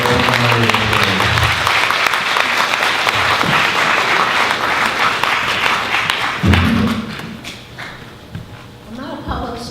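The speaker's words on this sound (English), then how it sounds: "Let's give Gladys a round of applause" Applause at a memorial service fills the room, dense sustained clapping from a seated audience that gradually thins and fades, with a few thumps and footsteps as someone walks up.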